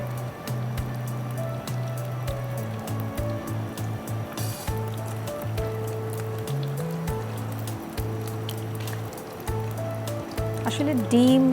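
Egg-coated bread samosas fry in a pan with a steady crackling sizzle throughout, close and even, while someone talks over it with background music.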